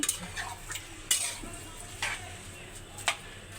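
Meat and fried onions (beresta) cooking in a pot on a stove for a shortcut biryani, with soft scraping stirs and light clinks of a utensil against the pan at intervals over a low background.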